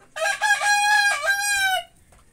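A gamefowl rooster gives a single full crow, loud and close, rising then trailing off over about two seconds with no talk.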